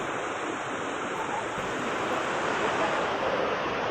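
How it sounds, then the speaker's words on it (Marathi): Heavy rain pours over a flooded Khandeshwar station in Navi Mumbai, where water has filled the basement; a dense, steady roar of rain and water runs evenly throughout, loud and close, with no voices. "नवी मुंबईत मुसळधार पाऊस सुरू आहे त्यामुळे सकल भागांमध्ये पावसाचं पाणी साचले"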